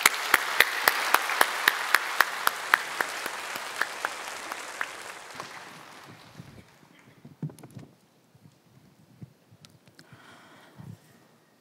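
A church congregation at a Korean service claps to welcome a speaker forward, a dense round of applause that gradually thins out into a few scattered claps.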